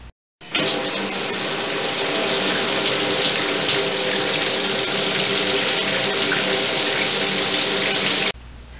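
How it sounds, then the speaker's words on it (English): A shower runs steadily in a bathroom, a loud continuous hiss of spraying water that starts abruptly and holds evenly for about eight seconds before cutting off. "She could hear the shower."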